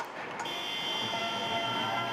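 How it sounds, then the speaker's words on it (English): At an ice hockey game between the Manchester Storm and Braehead/Fife, a period-end buzzer sounds as a steady electronic tone over the dull crowd noise of the arena. "The buzzer goes"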